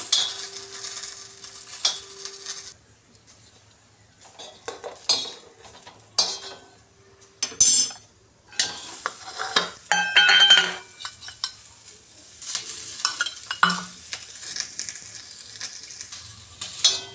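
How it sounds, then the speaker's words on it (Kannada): Green chillies fry in a pan for sambar with a soft sizzle while a spoon stirs and scrapes, metal clinking against the pan in irregular bursts, close up and without talk. "ಈ ರೀತಿಯಾಗಿ ಕಟ್ಟಿನ ಸಾಂಬಾರ್ಗೆ ಹಸಿಮೆಣಸಿನ್ಕಾಯಿನ ಹುರ್ಕೋಬೇಕು"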